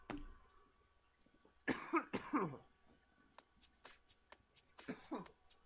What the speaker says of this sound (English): The coughing at this point is a little redonkulous.